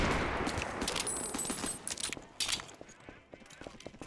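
Rapid M1 Garand gunfire in a cartoon cat survival video game comes as a burst of sharp cracks in the first half, then scattered impacts and clatter, with voice and game noise mixed in.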